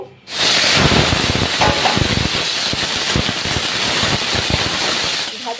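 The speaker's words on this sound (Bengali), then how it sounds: "প্রথমেই আমি চিংড়ি মাছগুলোকে ভাজা করে নেব" Prawns drop into hot mustard oil and burst into a loud, close hiss that holds steady throughout, with faint crackles in the spitting oil and no voices.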